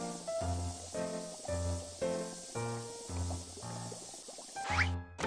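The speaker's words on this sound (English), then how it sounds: "Spray the door with foam." Foam sprays onto a door in the BabyBus game Baby Panda's Town: Supermarket, heard as a series of short, evenly spaced bursts of cartoonish spray and hiss with tonal effects, ending in a brief bright sweep.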